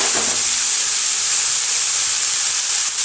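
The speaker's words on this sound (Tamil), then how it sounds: "இப்போ நம்ம இந்த கேரட்டை போட்டுக்கலாம்." Carrots sizzle in a hot pan, a loud, steady hiss that holds unbroken for a few seconds, close up with no talking.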